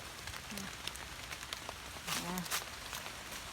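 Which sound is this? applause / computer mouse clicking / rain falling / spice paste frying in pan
rain falling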